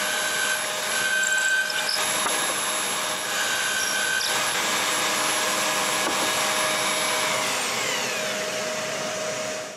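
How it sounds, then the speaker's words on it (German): A power drill with a 7 mm bit bores holes for a workbench clamping system, a continuous loud whine that holds steady for nearly ten seconds, then its pitch drops away as the tool slows at the end. "Das ist ein 7 mm Bohrer, damit ich ein kleines bisschen Luft habe und das Ganze auch schön passt."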